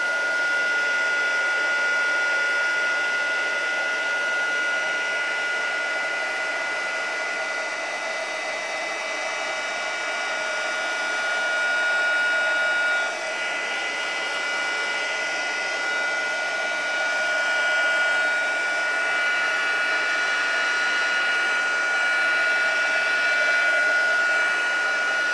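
A heat embossing tool blows hot air over stamped cardstock as a steady, close, whirring fan hiss with a thin high whine, unbroken throughout with no speech.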